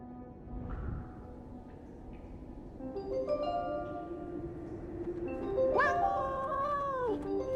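A cat in the video game 11-11 Memories Retold gives a drawn-out, wavering meow near the end, standing out over a quiet, murky underground backdrop.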